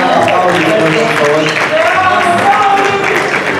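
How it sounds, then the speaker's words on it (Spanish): A church audience claps for a couple being welcomed on stage: dense, steady applause at close range throughout, with cheers and voices mixed in and music-like tones underneath. "un aplauso para Pauli y Flor"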